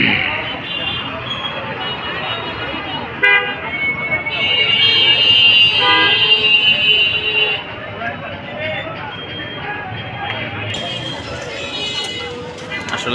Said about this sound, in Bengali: এখানে দেখেন কীরকম যানজট থাকে